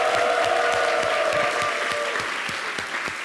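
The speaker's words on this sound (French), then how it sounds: "Applaudissez fort!" An audience claps loudly and steadily for Miss Halima on a television show, a dense, sustained round of applause with a few sharper individual claps standing out.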